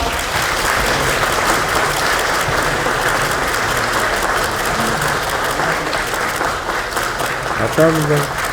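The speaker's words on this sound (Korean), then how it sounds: "큰 박수 부탁드리겠습니다." A large party caucus crowd claps steadily and loudly through the whole stretch, a dense wash of applause with a brief voice near the end.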